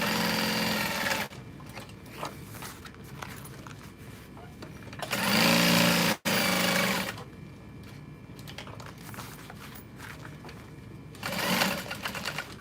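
A sewing machine stitches around two pieces of folded fabric for a custom-ordered bag, with bursts of fast whirring separated by quieter stretches of handling noise and a brief pause partway through.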